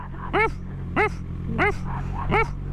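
Repeated angry yelping barks from a large dog chasing motorcyclists on a village road, four sharp bursts about half a second apart, close and loud over steady engine hum and rider chatter.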